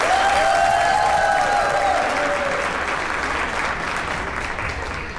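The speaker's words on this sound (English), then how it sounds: "Everybody give a round of applause for the parents." Wedding guests applaud for the couple's parents, a dense burst of clapping with a few whistles that stays strong and then slowly thins out over about five seconds.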